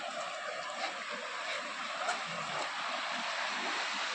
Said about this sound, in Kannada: ನೋಡ್ರಿ ಇಲ್ಲೇ ಮಸ್ತ್ ನೀರು ಬೀಳಾಕತ್ತೈತಿ.